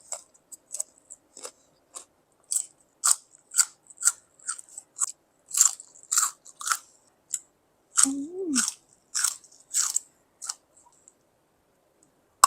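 Close, crisp crunching and clicking from bites and chewing of a large fresh fig in an irregular rhythm, with a short hummed voice partway through.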